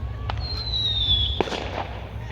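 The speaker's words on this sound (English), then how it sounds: "somebody with their little fireworks" Small fireworks go off outdoors during Victoria Day celebrations in Toronto: a whistling rocket rises and fades, followed by sharp pops and a crackling report at moderate distance over a low background rumble.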